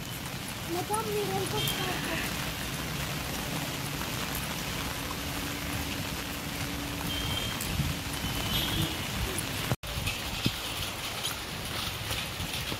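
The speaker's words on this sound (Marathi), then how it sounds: "बघा किती पाऊस आहे आमच्याकडे" Heavy rain pours down outdoors in a continuous dense patter and hiss, with a sharp click near the end and a person talking over it at times.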